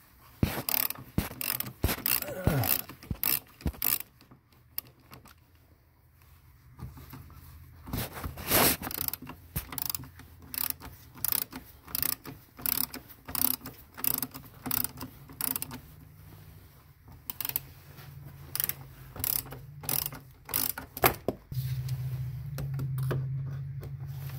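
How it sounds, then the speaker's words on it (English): A ratchet turning a 10mm socket clicks rapidly, close by, while the wiper motor is unbolted from a 1999 Chevy Astro. Bursts of ratcheting are separated by brief pauses and shifting mechanical rattles. "So I'm going to go ahead and take off this wiper motor. It's a 10mm socket."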